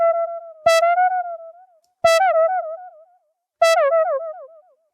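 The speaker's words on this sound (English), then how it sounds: "what you can do is modulate the delay effect" A VintageRack delay plugin repeats three short plucked tones, each followed by a string of decaying, pitch-wobbling echoes from the modulated delay, with silence between the notes.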